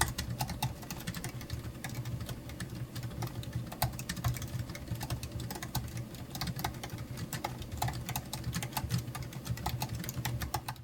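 Typing on a 16-inch M1 Pro MacBook laptop keyboard, low-profile non-mechanical keys giving a rapid, continuous patter of soft clicks, close and steady with no talking.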